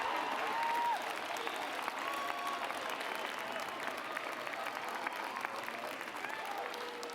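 A crowd claps steadily for new graduates at the 2019 Westchester Community College commencement, sustained applause filling the hall from start to finish.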